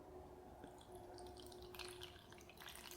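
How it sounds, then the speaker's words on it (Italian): Lukewarm water is poured into a bowl during a facial spa treatment, giving faint, soft dripping and trickling sounds at close range in a quiet room. "versiamo all'interno della ciotola dell'acqua"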